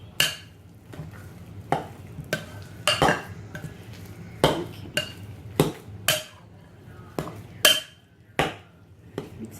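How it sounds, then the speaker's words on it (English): A big spoon scrapes and knocks against a bowl while stirring a turkey meatball mixture with egg, giving irregular sharp clinks and thumps spread over several seconds, close and clear. "Mix it in with my big old spoon"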